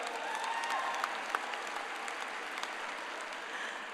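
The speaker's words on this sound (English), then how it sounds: "I think that deserves a round of applause for all of you." Graduation ceremony audience applauding at a 2023 high school commencement, a steady wash of many hands clapping from a large crowd, fairly distant and even, with a few sharper nearby claps standing out.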